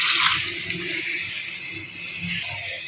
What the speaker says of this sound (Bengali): এবার এতে আমি দিয়ে দেব পানি।